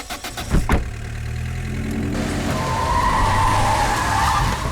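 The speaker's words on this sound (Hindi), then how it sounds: "सामने आकर तूने हमारी गाड़ी रोक दी।" A car skids to a halt on a road, a loud tire screech rising after a couple of short thumps and holding steady under the idling engine until the end.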